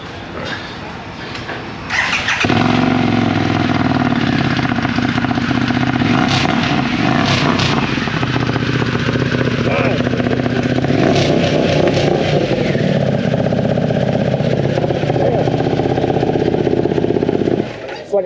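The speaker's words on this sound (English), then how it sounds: "How does that sound with that Vance & Hines exhaust?" A Harley-Davidson Pan America motorcycle fitted with a Vance & Hines exhaust fires up and revs repeatedly at a bike week gathering, loud and close, with a throaty rumble rising and falling over about fifteen seconds.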